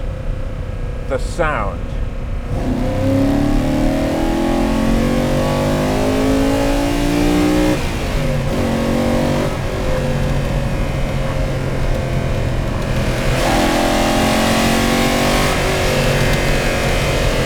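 A Lamborghini Urraco P250 engine revs in a workshop, a loud sustained run with rising pitch sweeps as the throttle climbs and falls in several strong pulls.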